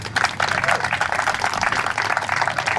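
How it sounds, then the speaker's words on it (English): Applause for the mayor at a community center and sports field grand opening, a crowd clapping steadily and fairly loudly outdoors with voices mixed in. "Round of applause for our wonderful Mayor,"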